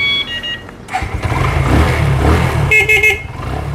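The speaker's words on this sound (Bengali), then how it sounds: "এই দেখেন আমি বাইকটা স্টার্ট দিব" A Yamaha FZS motorcycle engine cranks and catches at about one second, then idles with a loud, steady low rumble; a short horn-like beep sounds near the end.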